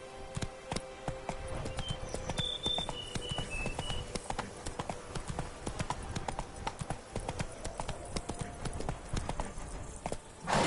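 Horse hooves gallop in a PS4 video game, a rapid, steady clip-clop running throughout at moderate level, with small game chimes near the start.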